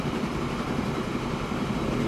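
A steady, broadband rumble of a train running in the railway game Transport Fever 2, set in 1850. The moderate, continuous noise runs throughout with no talk.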